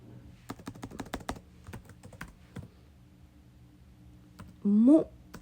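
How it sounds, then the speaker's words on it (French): Someone types a password on a computer keyboard with a run of quick, close clicks and taps in irregular bursts that slow toward the end, and a voice briefly speaks near the finish. "Maintenant que j'ai tout écrit mon mot de passe secret"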